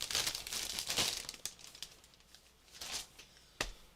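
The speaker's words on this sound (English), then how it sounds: "I'm going to put all this stuff back in the plastic bag it came out of" Plastic bag crinkles and rustles in bursts as craft supplies are stuffed into it, close and fairly quiet, with a final sharp crackle and no talk.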